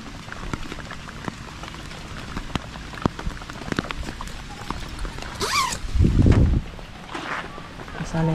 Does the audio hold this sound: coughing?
no